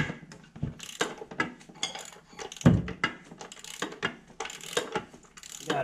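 A pipe wrench clamped on the top edge of a water heater loosens a fitting, giving a series of sharp metallic clicks, scrapes and knocks in uneven bursts, close and fairly loud, with one heavier clunk partway through.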